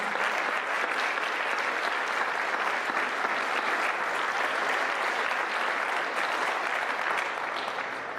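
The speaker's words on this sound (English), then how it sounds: "Let's give them another round of applause." A graduation ceremony crowd for a city school district bursts into loud, dense applause that holds steady for the full stretch without letup before tapering slightly at the end.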